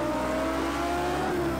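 A race car engine in Project CARS 2 revs hard and steadily on the throttle during a Super Trofeo race at the Algarve circuit, a loud continuous whine with no talk.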